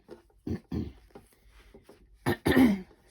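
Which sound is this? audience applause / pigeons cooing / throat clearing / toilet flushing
throat clearing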